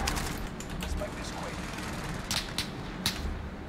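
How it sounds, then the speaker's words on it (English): Gunfire during a video game shootout in a shooter match: a few sharp, fairly distant cracks break through a constant noisy backdrop, with people talking over it. "Shots. Is there shots?"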